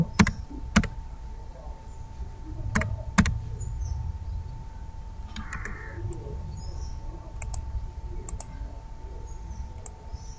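Computer keyboard typing a product description, scattered sharp key clicks, several isolated and a few in quick pairs, close and clear over a faint steady hum with no talk.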